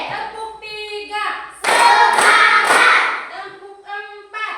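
A standing classroom group claps hands in a counted clapping routine, a few loud, sharp claps mixed with chanting voices.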